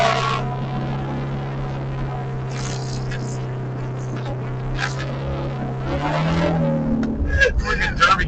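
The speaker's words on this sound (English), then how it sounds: "It does sound like a rally car." Loud, rough car exhaust with a rally-car character drones steadily under the drive, then swells as the throttle opens near the end, with a voice talking over it.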